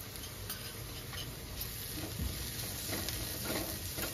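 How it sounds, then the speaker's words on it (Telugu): Onions frying in a pan with a spoonful of ginger-garlic paste, giving a steady, fairly quiet sizzle with faint scraping stirs throughout. "లైట్గా దోరగా ఫ్రై అయినాయండి ఉల్లిగడ్డలు."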